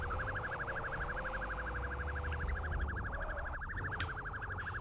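A police car siren in a video game wails in a steady rapid warble, loud and continuous, with a low engine hum underneath and no voices.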